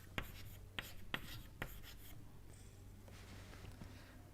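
Chalk or marker writing during an engineering lecture on the momentum integral method, with several sharp taps and strokes in the first two seconds and faint scratching after, quiet over a low room hum.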